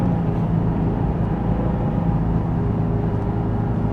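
A Nissan 350Z driving and taking a turn in second gear, with a steady, loud, low engine drone and road noise heard from inside the car, without talk.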